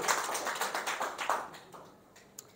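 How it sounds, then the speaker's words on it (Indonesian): Brief congregational applause during a church sermon, a burst of clapping that is fairly faint and fades out within a couple of seconds, followed by quiet with a single small tap near the end. "Tepuk tangan untuk Tuhan dulu"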